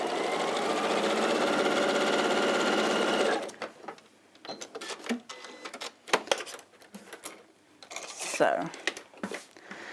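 A sewing machine runs steadily while top stitching along a curve in fabric, a close, fast mechanical whir for about three seconds before it stops, followed by scattered clicks and light handling noises.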